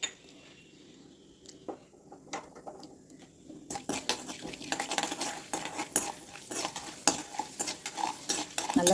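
Chana dal tempering in sesame oil in a pan, a soft sizzle with a spoon stirring and clinking against the metal. It is quiet at first, then grows into steady, close scraping and crackling.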